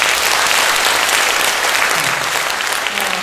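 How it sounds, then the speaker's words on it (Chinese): An audience at an indoor talk breaks into loud, sustained applause. Dense, even clapping fills the whole stretch with no break. "来，我们鼓掌一下。"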